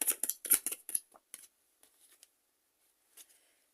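Tarot cards being shuffled and drawn at close range: a quick run of crisp papery riffles and flicks, then a few scattered soft taps and slides with near silence between.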